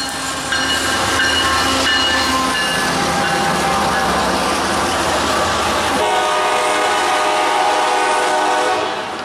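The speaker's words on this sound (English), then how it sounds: "Let's see the locomotives." CSX SD40-2 locomotive #1982 in Seaboard colours passes close by with its train: a loud, continuous rumble and rattle of rolling cars, with horn blasts sounding during the passage.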